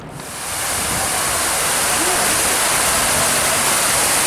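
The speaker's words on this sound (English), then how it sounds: "So a lovely water feature here outside of Cabot Place." Outdoor water feature fountain at Cabot Place in London's Canary Wharf, a steady loud rush of falling water that swells in over the first half second and then holds constant and close.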